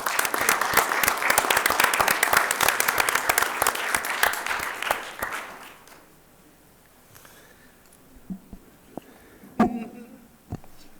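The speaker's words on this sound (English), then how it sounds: "Let's give her another round of applause" A city council meeting audience claps loudly and steadily for about five seconds before the applause stops abruptly, leaving a quiet room with faint shuffling and a few brief voices.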